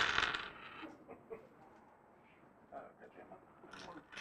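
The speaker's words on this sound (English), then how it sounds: "That was some horrible dice roll right there." Dice are rolled during a tabletop wargame, giving a quick clattering rattle at the start, then scattered small clicks and a second light clatter near the end, fairly faint.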